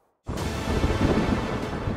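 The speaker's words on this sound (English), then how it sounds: "A massive storm hit the southwest of England" A thunderstorm sound effect bursts in after a moment of silence, a loud, dense roar of thunder with rain and wind noise sustained to the end.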